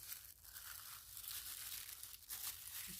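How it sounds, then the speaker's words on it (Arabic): A plastic bag or stretch wrap is pulled and pressed over a bowl of natural hair mixture, giving close, continuous crinkling and rustling with a couple of sharper crackles. "هنغطيها كويس بأي كيس عندك ولا أي استرتش حبيبتي"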